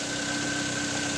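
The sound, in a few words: 2015 Mitsubishi Lancer engine running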